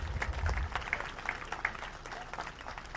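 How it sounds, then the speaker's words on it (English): An audience at an outdoor Canada Day ceremony applauds the RCMP Red Serge and dignitaries, a steady spread of many hands clapping at moderate distance for a few seconds, fairly soft overall. "A nice round of applause, the RCMP Red Surge and our dignitaries."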